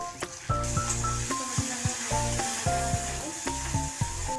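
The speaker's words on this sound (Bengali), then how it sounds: "আমি এবার দিয়ে দিচ্ছি টমেটো কুচি।" Chopped tomatoes hit browned onions and green chillies frying in oil for a prawn dish, setting off a loud, steady sizzle with repeated stirring scrapes and clatter close by.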